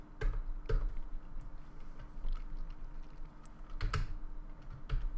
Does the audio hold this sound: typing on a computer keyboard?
yes